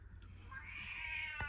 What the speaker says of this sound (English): My cat Lou in the background there.